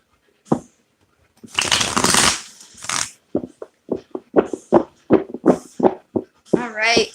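Tarot cards are shuffled close by: one long riffling burst, then a run of short, crisp snaps and slaps as the deck is cut and squared.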